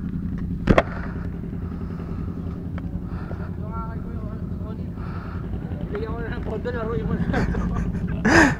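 Motorcycles on the road near a moto market give a steady low engine drone under wind buffeting, with a few sharp bursts and a rising rev at the end while voices talk over it.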